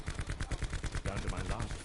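Rapid automatic gunfire from the video game Black Ops 4, a dense, loud burst of closely spaced shots that fires continuously for under two seconds.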